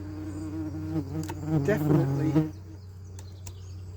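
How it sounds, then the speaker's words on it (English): A dense, steady buzz of many bees fills the whole stretch, close and continuous, with a person briefly speaking over it midway. "how many bees there are in here."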